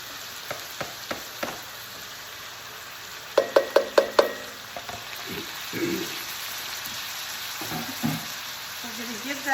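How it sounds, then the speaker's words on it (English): A ground beef mixture with cilantro fries in a pan under a constant sizzle. A spoon scrapes and taps, in scattered clicks at first and then a quick run of four louder knocks. "we're going to give that a good mix"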